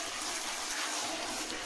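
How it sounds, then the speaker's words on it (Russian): Orchid bark being scrubbed with a brush under hot running water: a steady, soft wash of splashing and rushing water with faint scrubbing, continuous and close, no voices. "И для этого я буду использовать горячую воду и щетку."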